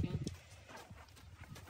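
A Mangalarga horse moves in the marcha gait, its hooves giving soft, quick clip-clops close by, with people talking over the sound.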